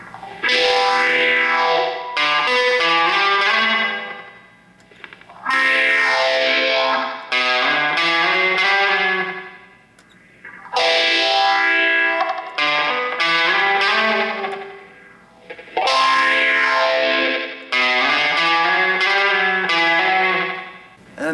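Heavily distorted electric guitar plays a chorus riff, loud, sustained chord phrases in repeating two-to-three-second bursts with short breaks, played alone.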